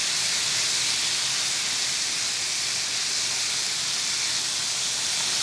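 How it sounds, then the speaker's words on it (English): Boneless beef ribs for Korean galbisal sizzling in a hot oiled pan, a steady, loud hissing fry that holds evenly throughout with no talk. "Add the meat to the pan"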